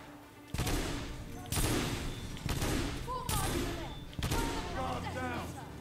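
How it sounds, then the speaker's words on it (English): Sniper rifle and other gunfire from The Order: 1886, four loud, sharp broadband blasts about a second apart, each decaying into a noisy tail, with voices talking over the action. "Oh, it's a sniper rifle."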